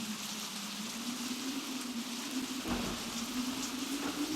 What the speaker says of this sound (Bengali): এই দারুণ বৃষ্টি হচ্ছে, দমকা বাতাসের দিকে আছে